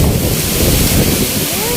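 Strong wind in a garden roars steadily and loudly against the microphone, a dense low rumble with no pauses throughout.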